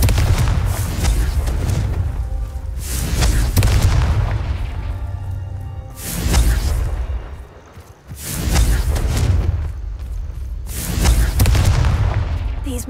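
Repeated Confringo blasting spells in Hogwarts Legacy during the Merlin trials, heavy booming explosions landing one after another with whooshing bursts, loud and close, filling the whole stretch without talk.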